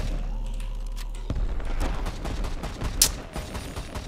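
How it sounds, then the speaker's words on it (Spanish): An air strike in the Rift Loopers video game sets off a burst of rapid explosions and gunfire after a quiet start, with a brief sharp bang near the end amid dense continuous game noise. "Vamos a probar el Air Strike"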